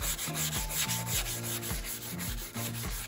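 Sanding the edge of a plexiglass sheet, a steady rubbing scrape that keeps a constant rhythm, with a low droning tone underneath throughout.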